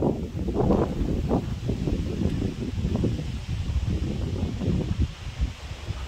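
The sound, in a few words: strong gusty wind during a storm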